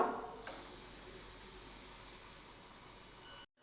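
Steam escapes from a pressure cooker before its weight is set, a steady, fairly faint high hiss that runs unbroken and then cuts off abruptly.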